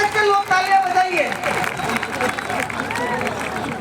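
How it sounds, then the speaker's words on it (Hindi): Audience applause at a Hindi poetry recital (kavi sammelan) during Holi celebrations, a dense wash of clapping from a crowd with scattered cheers and voices mixed in, steady and fairly loud throughout. "एक बार पीछे तक के लोग तालियां बजाइए"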